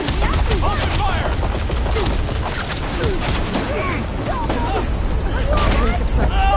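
Rapid gunfire and impacts in a Horizon Forbidden West battle, dense bursts of shots crackling continuously over deep rumbling booms, with voices calling out amid the shooting.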